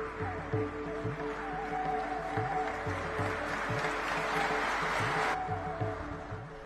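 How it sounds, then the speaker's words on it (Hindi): A packed hall applauds in welcome for an elderly yogi honoured by the Prime Minister and President, a dense, steady wash of clapping that holds loud throughout and cuts off sharply near the end, with faint music underneath. "भरी सभा तालियों से उनका स्वागत कर रही थी।"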